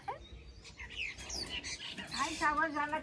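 Birds chirp and tweet in bright, quick bursts, with a trilling call near the end, while people chat softly in the background.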